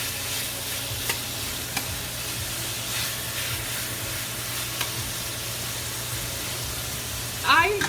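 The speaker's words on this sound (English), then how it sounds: "I don't want my meat to boil. I want it to saute." Cubed pork tenderloin sizzles and sautés in a hot pan with a steady, broad frying hiss, broken by occasional spatula scrapes and a brief spike near the end, with a voice speaking over it.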